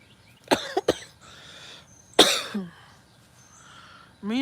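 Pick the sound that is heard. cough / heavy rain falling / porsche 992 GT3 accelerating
cough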